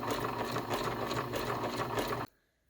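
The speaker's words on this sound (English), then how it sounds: "rhythm as the sewing machine" Sewing machine running steadily while ruffling fabric onto non-stretch elastic, a fast close mechanical whir with a faint rhythmic pulse, stopping abruptly near the end.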